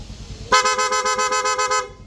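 The PIA horn on a Yamaha Mio i125 scooter sounds in a rapid series of short, bright honks, about eight quick pulses in a row, close and loud after a brief quiet moment.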